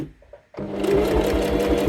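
A sewing machine stitches through a thick layer of fabric while making a shoulder bag, starting with a short pause and then a steady loud mechanical whirr with fast regular needle beats.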